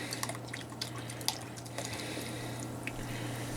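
Michelob dark lager beer is poured into a pot of chili, a soft liquid trickle with scattered drips and light squishy splashes under a steady low hum.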